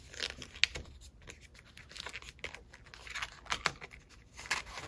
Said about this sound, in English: you're going to fold it from the corner in a diagonal